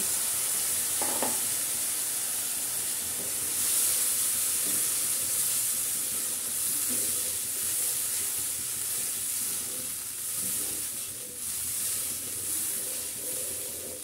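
Homemade sour yogurt goes into hot beef biryani masala in a pan, with a steady sizzle and hiss, occasional stirring scrapes and faint steam, continuous and close at moderate volume, with no talking.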